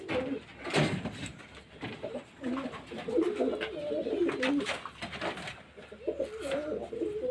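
Soft, repeated pigeon cooing close by, low throaty calls rolling on over light handling noises.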